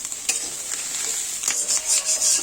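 An egg frying in a pan for chow mein gives a steady, close, high hiss, with a couple of brief spatula clicks and the sizzle swelling near the end; no one speaks.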